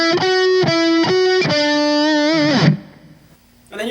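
Distorted electric guitar plays part of a song's solo, a few repeated sustained notes then a long held note bent downward, loud and alone before a short pause and a new note.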